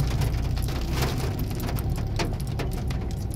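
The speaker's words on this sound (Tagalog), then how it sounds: "Ay, sobrang ulan" Heavy rain pours down continuously on the Atimonan Zigzag road in Quezon Province, Philippines, a dense roaring hiss with scattered louder splashes and a low rumble beneath, no voices present.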